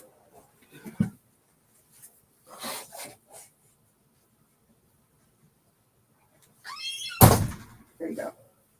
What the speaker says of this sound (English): I got to close the door.